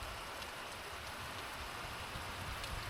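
Steady heavy rain pours down in a forest while a rider on a bike tour stands exposed, a dense, even hiss with no voices.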